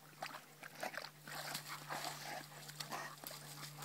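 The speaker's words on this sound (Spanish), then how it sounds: "Lo que le gusta al agua a este perro." A dog swimming in open water gives short whimpers and yips close by, with faint sloshing and a low hum beneath, all quiet and sporadic.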